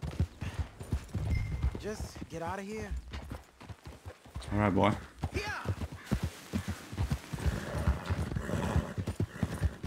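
Horse hooves clip-clopping in Red Dead Redemption 2, steady close footfalls with a whinny or snort partway through, heard under ongoing character dialogue.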